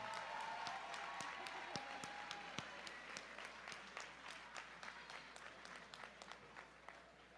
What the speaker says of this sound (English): How about a nice round of applause for these two great fighters